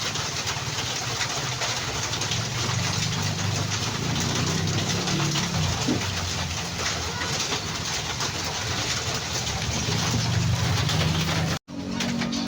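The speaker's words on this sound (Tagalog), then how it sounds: "Grabing ulan dito mga kabayan, hindi pa rin humuhupa yung ulan." Heavy rain keeps pouring in a dense, unbroken roar, loud and close, steady for the whole stretch with only a brief dip near the end.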